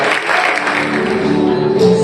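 A crowd claps at a Mitoni seven-month pregnancy ceremony held as a school culinary practical exam, a steady, fairly loud wash of applause that continues throughout with faint tonal hum beneath it.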